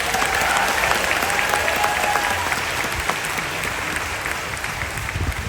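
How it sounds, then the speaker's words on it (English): Theme park cast members at Disney's Hollywood Studios 35th celebration receive a loud, continuous round of crowd applause with scattered whistles, steady across the whole stretch. "Let's give them another round of applause."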